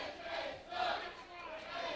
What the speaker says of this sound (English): The crowd seems to actually be turning on AJ Styles here.